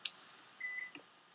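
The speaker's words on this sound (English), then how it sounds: "That is my phone" A brief electronic beep from a phone, a single short steady tone sounding close and fairly clear against a quiet room, followed by a faint click.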